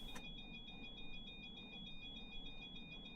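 Steady, rapidly pulsing electronic beeping in a PMDG 737 flight simulator, warning that ground power is not plugged into the airliner; the quiet, high twin-tone chime repeats evenly throughout over a low cockpit hum.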